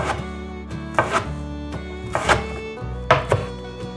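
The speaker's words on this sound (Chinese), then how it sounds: "把金针菇的根部去掉，这里切碎" A knife chops through enoki mushroom roots on a cutting board: about five sharp, distinct thunks at irregular intervals over a low steady background hum.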